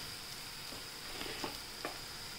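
Food frying in a pan after salt is added, stirred with a few soft scraping strokes over a steady close sizzle.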